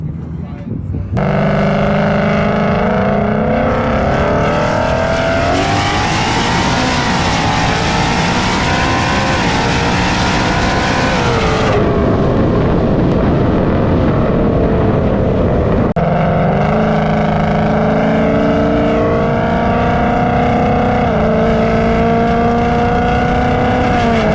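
A 1000 hp ESS G3x Mustang with twin Gateway R 55 mm turbos roars close by, holding a loud sustained drone that rises and falls in pitch through several throttle swells, with a brief voice underneath.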